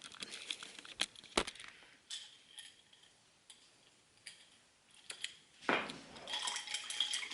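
Coconut stevia being mixed into iced coffee gives a few sharp clinks and taps of a spoon or ice against the cup, with rustling in between and a busier clatter near the end.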